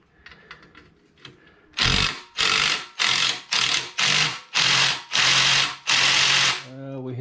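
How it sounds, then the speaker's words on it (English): Impact wrench hammering at a stuck part on a Craftsman tiller engine, firing in seven loud, evenly spaced bursts of about half a second each, close up, after a few light clicks and handling noises. "Let's see if the impact will move it now."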